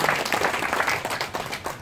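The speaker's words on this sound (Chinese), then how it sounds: "我们给予他一个掌声" An audience at a formal inauguration ceremony applauds, a dense, steady burst of clapping heard up close throughout.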